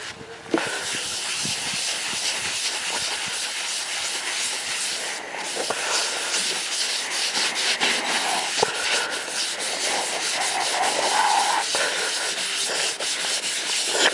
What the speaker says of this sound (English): Use a gray pad.